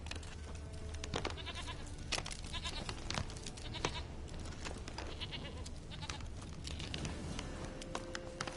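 Goat bleating in The Witcher 3, a run of repeated bleats heard up close over steady game ambience, with no talking.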